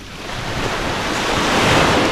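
Ocean waves and surf roll in on a fishing outing, a steady broad roar that builds in loudness, with wind buffeting the microphone and no voices.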